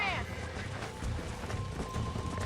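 A black horse in Red Dead Redemption trots with rhythmic clip-clop hoofbeats at moderate level, steady throughout, under game ambience.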